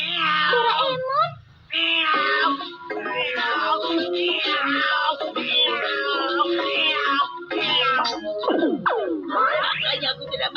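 A cartoon cat character in Doraemon imitating a wild cat, with a continuous stretch of exaggerated, wailing meows and whiny yowls, loud and close, shifting in pitch throughout.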